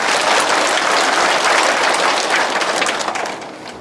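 A church congregation applauds together in sustained, dense clapping that holds steady throughout and then tapers slightly at the end, with no speech over it.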